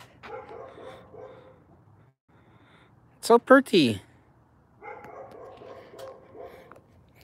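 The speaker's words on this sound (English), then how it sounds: "You hear dogs in the background." Dogs bark outdoors during a trip to Costco: a short burst of several sharp barks, fairly close and loud, between stretches of someone talking.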